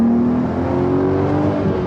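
A VW R32 with its V6 engine pulls hard on a twisty country road, a loud steady rising engine note close by, without talk.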